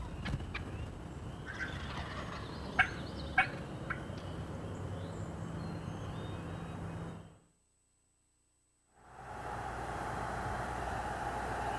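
A wild turkey in Georgia gobbles in springtime woods, two sharp rattling gobbles close together at a moderate distance over steady outdoor hiss, followed by a brief dropout of all sound before the ambience returns.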